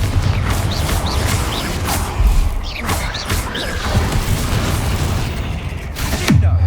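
Repeated Confringo fire-spell blasts in the video game Hogwarts Legacy, inside the Overlook Mine: several booming impacts and crashes land in quick succession over a busy, loud combat soundscape.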